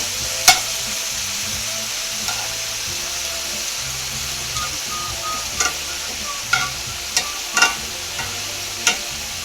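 Ground beef for tacos sizzles steadily in a frying pan, a constant broadband hiss broken by occasional sharp clicks and scrapes as it is stirred.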